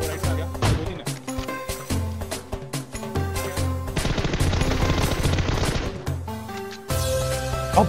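Gunfire from the mobile video game PUBG Mobile, with an AWM sniper rifle in play, cracks in sharp repeated shots and bursts over game music and effects, loud and layered throughout.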